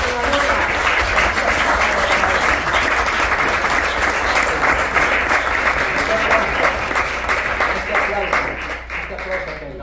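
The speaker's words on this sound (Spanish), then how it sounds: "Este aplauso que habéis dado" An indoor audience at a talk breaks into sustained, dense applause that lasts about ten seconds and gradually thins toward the end, with some murmured voices mixed in.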